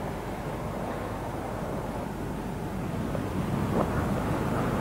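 Breezy wind buffeting outdoors near Tomintoul in the Scottish Highlands, a continuous low rumbling gust noise against the microphone, steady and fairly loud with no voices.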